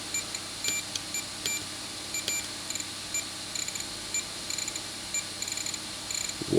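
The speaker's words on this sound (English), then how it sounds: "Why is it beeping? Does it beep the whole fucking time?" Short high electronic beeps repeat irregularly over a steady hum, thin and close, with no voices, coming from a cheap 5V four-port USB buck converter.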